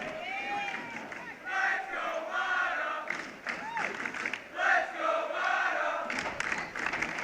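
A crowd at a varsity high school wrestling match, LT versus Mt Carmel, cheers and yells in rising bursts, with distinct shouting voices close by and a gymnasium echo, loud and uneven throughout.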